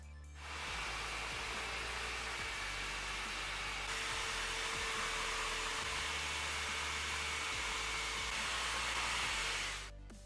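A power tool cuts out small wooden shelves for a jewelry case makeup storage, a steady loud whirring roar that runs nearly ten seconds, with a low repeating thud under it, then it stops.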